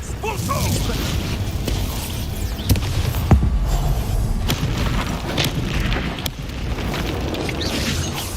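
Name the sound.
Expulso spell explosion in the video game Hogwarts Legacy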